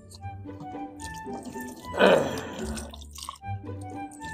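Fish being washed under a running kitchen tap, a soft trickle and splash of water that swells briefly in the middle, set over faint background hum and clatter.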